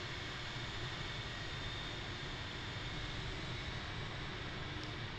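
Airliner engines in Microsoft Flight Simulator 2020, flying over Hawaii in stormy weather, produce an unbroken, even roar that fills the whole stretch without pauses or talk.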